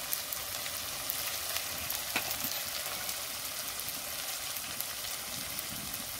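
Lote (Bombay duck) fish frying in a pan with salt and turmeric gives a steady, dense sizzle and hiss throughout, with faint scraping and no talk.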